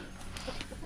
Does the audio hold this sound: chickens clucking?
yes